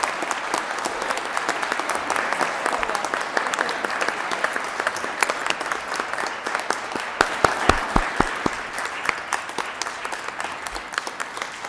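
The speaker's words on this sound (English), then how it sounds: "So please give Serene a round of applause." Applause fills a state senate chamber during a legislative session, a sustained crowd of hands clapping with distinct sharp individual claps standing out near the middle, steady throughout with no talking over it.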